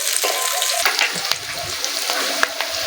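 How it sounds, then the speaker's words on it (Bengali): Chopped capsicum sizzles and crackles in hot oil in a pan while cooking a paneer dish, a dense, bright frying hiss with sharp pops and occasional stirring clicks, close and continuous. "এবার কেটে রাখা ক্যাপসিকামটা ভেজে নেব কেটরা ক্যাপসিকামগুলো ভেজে নিতে হবে"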